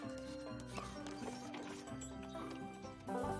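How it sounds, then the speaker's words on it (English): Horse-drawn carriage hooves clip-clop in a loose rhythm beneath a bed of tonal music in an animated cartoon, moderately close, with faint neighing-like sounds mixed in. "And those there are horse-drawn carriages."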